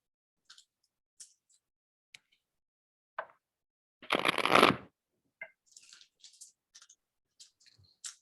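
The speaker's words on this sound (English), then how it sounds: "I shuffle the cards" Tarot cards are shuffled in one brief riffling burst, set among scattered soft taps and clicks in a quiet room.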